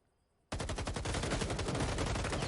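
Sustained automatic gunfire from Sniper Alley in a pro league match, a dense loud burst that starts abruptly after a moment of quiet and continues without a break.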